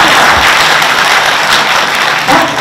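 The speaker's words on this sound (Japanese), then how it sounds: "拍手欲しいよ" An audience at an indoor political protest meeting applauds, a dense, loud, sustained burst of many hands clapping together without a break.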